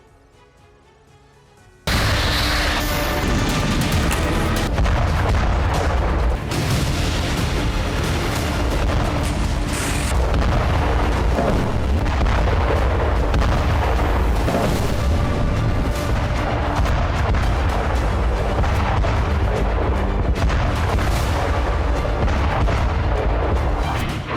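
Artillery fire and explosions in the Russia-Ukraine war during a Ukrainian counteroffensive: after a brief quiet opening, a loud, unbroken barrage of booms and blasts runs on without pause.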